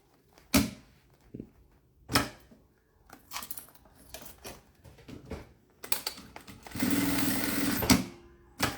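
A sewing machine stitches a toiletry bag made from a milk carton, heard as short mechanical bursts separated by handling clicks and thuds, then a longer steady run near the end.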